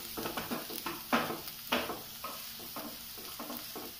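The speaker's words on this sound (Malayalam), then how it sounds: "ഇനി എണ്ണ തെളിഞ്ഞ വരെ നമുക്കിതൊന്ന് മിക്സ് ചെയ്യാം" Tomatoes being stirred into a sizzling masala for Palakkad beef biryani, with repeated scraping strokes of a spoon in the pan over a soft frying hiss, no talking.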